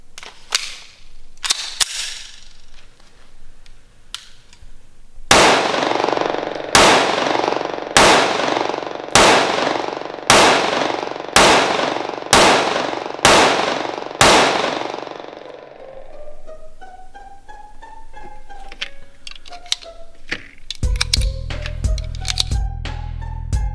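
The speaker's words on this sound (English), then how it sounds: "Let's shoot us some more." A Canik TP9DA pistol fires about ten loud, sharp shots in a steady, evenly spaced string outdoors, each crack ringing off briefly, followed by quieter metallic clicks and handling noises.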